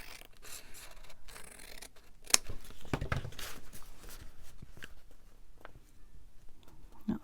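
Scissors trim a paper journal card for an altered book, snipping in quiet, close, irregular cuts with light rustling of paper, one sharper snip standing out midway, no voice present.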